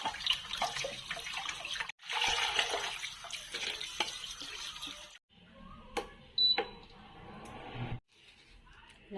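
Tap water runs and splashes into a sink while galunggong fish are cleaned for paksiw, a steady gush broken by short pauses and clinks, with people talking faintly in the background.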